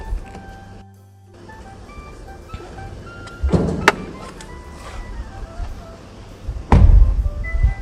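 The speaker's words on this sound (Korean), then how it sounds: "세운 게 없으니까 전동 트렁크 닫습니다" A powered trunk on a Kia K9 AWD with a V6 GDI engine whirs as its motor runs, then shuts with a solid thunk, followed by a second heavier close.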